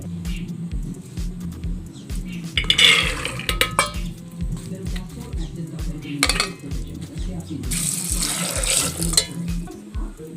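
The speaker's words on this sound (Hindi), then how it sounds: "दो गिलास पानी डाले हैं" Water pours and splashes into a metal pot of soaked chickpeas and potatoes, with clinks and clatter of utensils and dishes in a kitchen, steady running water rising in intermittent bursts.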